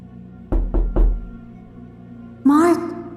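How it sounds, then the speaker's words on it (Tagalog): Three sharp knocks on a door come in quick succession, close and loud, followed by a brief voice after a pause. "Dahil pagsapit ng alas 12, may kumatok"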